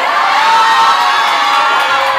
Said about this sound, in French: Applaudissez pour Fatoumata, s'il vous plaît.